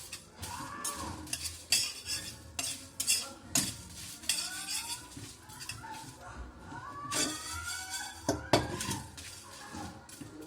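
Coriander seeds, peppercorns, cloves, red chilies and cinnamon sticks dry roasting in a pan, stirred with a metal utensil that clinks and scrapes in irregular bursts, with a voice faintly audible in the background.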